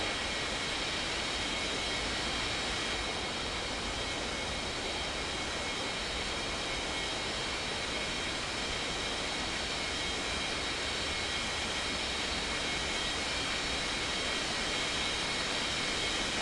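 An Air India airliner taxiing toward the gate at Palmas, a constant loud broadband jet engine roar, steady and close with no breaks.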